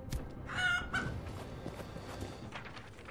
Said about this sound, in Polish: Kurczak! Kurczak!